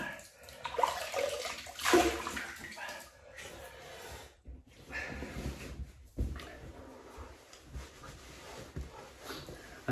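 Running water splashes and swishes in uneven bursts, close by, as a face is rinsed with warm water, with brief pauses and faint handling noises between rinses.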